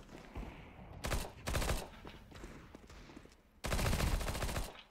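Rifle fire in Counter-Strike 2, several loud bursts of rapid shots separated by short pauses, with the longest burst near the end, close and without talk.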